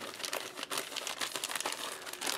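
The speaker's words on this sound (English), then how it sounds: "A plastic bag." A plastic bag crinkles continuously as it is handled close up, with a dense, rustling texture of small crackles and no talk.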